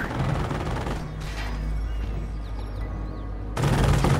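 Sustained gunfire and battle noise in the World War II strategy game Company of Heroes, a dense continuous fusillade with a louder burst at the end, heard without speech.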